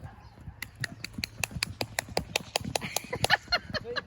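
A horse cantering nearby, its hooves striking in a quick, steady clip-clop rhythm of sharp, evenly spaced beats, with faint background noise and no talk.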